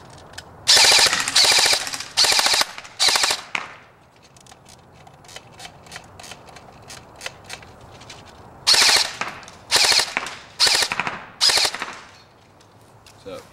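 A highly upgraded KWA M4 airsoft rifle rattles off full-auto bursts, sharp rapid clicking volleys in several groups with quiet pauses between, loud and close.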